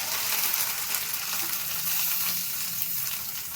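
Bitter gourd frying in hot oil tempering, a steady bright sizzle that holds evenly throughout at moderate loudness with no voices.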